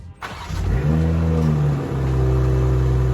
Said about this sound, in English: I'm gonna hit you guys with a cold start real quick.